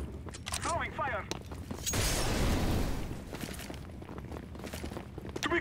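An incendiary grenade is thrown in CS:GO and bursts into a loud, broad whooshing rush of fire lasting about a second. Footsteps, clicks and game voice lines sound around it.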